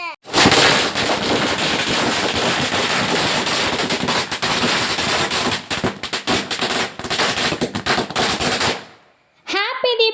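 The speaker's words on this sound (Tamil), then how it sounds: "பட்டாசு" Diwali firecrackers at a family home celebration burst in a long, dense barrage of loud, rapid crackling pops like machine-gun fire, lasting about nine seconds. The barrage stops abruptly, then a voice is briefly heard.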